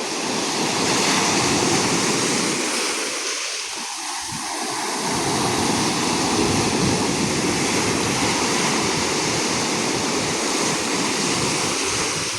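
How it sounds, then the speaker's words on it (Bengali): Sea waves surge on the shore in a continuous, loud roar of surf that swells and briefly eases near the middle, with no voices. "তো সমুদ্র কার না ভালো লাগে, সবারই ভালো লাগে সমুদ্র।"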